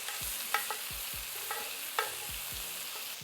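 Chicken pieces fry quietly in a pan after being flipped. A soft, even sizzle runs underneath several distinct knocks and scrapes of a utensil against the pan at irregular intervals.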